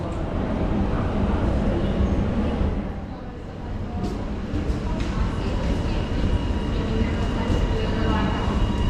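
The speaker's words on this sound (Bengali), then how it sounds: "সো আমার আমার এখানে পরের ট্রেনটা ধরতে হবে" A commuter train in Australia rumbles loudly and steadily nearby, a dense continuous roar with a brief dip partway through, while voices talk faintly under it.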